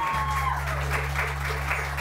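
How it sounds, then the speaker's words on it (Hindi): Studio audience applause for assistant Raja on a live morning TV show, a steady dense patter of clapping held evenly for the whole stretch over a low electrical hum. "राजा के लिए बहुत सारी तालियां 2014 में"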